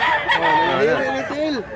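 A rooster crows once up close, its long wavering call rising and falling over a bit more than a second, with a little background chatter from people at a rural Cebu fowl sale.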